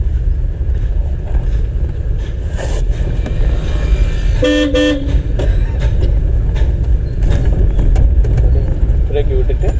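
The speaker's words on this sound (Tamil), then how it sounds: "ஹார்ன் அடிச்சுக்கோங்க." A car horn gives one clear honk of about half a second from inside a moving learner car during a driving lesson, heard over steady engine and road noise.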